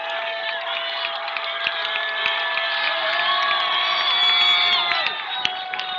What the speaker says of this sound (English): Getting a nice thunderous applause from the crowd.